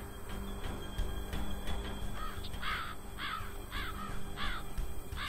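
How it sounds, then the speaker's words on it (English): Crows caw in the game Infestation: Survivor Stories, a series of harsh calls at an irregular pace, somewhat distant, over a steady outdoor hiss. "Shut up, crows. I'm trying to listen for danger, and you guys are freaking cawing over there."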